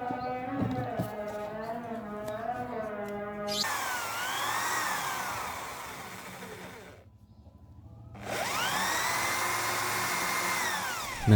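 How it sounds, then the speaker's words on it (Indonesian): A power drill bores pin holes through a steel survival knife blank in two long, loud whining runs whose pitch shifts with load. A short quiet gap separates the runs, and a steady tonal hum comes before them. "Nah, setelah itu dibor sama bapak saya dengan tujuan untuk dipasang pen ya guys"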